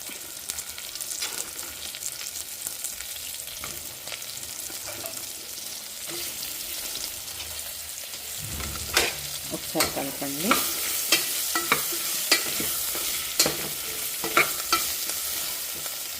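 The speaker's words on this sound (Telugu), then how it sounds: "సో ఫస్ట్ నేను బెండకాయ ముక్కలు వేసేస్తున్నా" Okra pieces frying in a pan with onions, a steady sizzle with repeated sharp scraping and stirring clatters that grow busier in the second half, close by with no talk.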